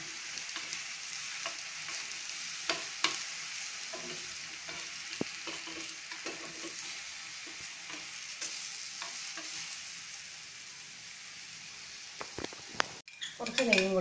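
Banana pieces roasting in ghee in a pan give a steady, close sizzle with intermittent stirring scrapes and clinks of a utensil, then a louder clatter near the end.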